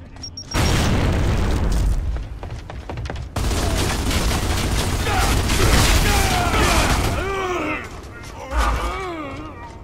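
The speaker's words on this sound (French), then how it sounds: "Explosion!" Explosions in the Gears of War: Judgment multiplayer Domination mode: a loud boom erupts, then sustained crackling blasts and gunfire-like bursts, with distorted voices and effects chirping near the end.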